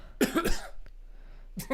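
Two quick close coughs, a short quiet gap, then another cough starting.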